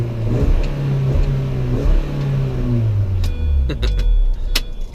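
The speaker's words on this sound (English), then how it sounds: "One last rev." A Mini's engine revs up toward its rev limiter at about 3,000 rpm, a loud close rising drone that hangs at the limit, with a few clicks and jangles near the end.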